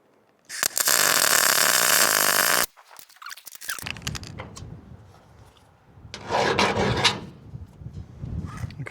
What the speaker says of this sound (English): let's just tack weld this